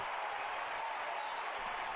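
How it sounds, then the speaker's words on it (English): A baseball crowd rises to its feet cheering after a leadoff double in a Tigers versus Royals game, producing a dense, steady roar of applause and crowd noise with no break across the moment. "That's the first time this crowd's got on their feet tonight."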